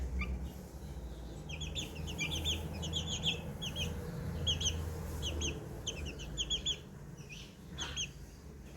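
Chicks peeping in quick, high repeated chirps, scattered in little bursts over a low steady background hum, fairly faint and close by.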